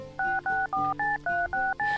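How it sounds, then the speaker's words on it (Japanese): Phone dialing tones in the Tokimeki Memorial 2 dating-sim video game: seven clean, even touch-tone beeps in quick succession, each a short steady pair of pitches, loud and clear with no talking. "こっから全部ホムラちゃんに電話かけようと思っております"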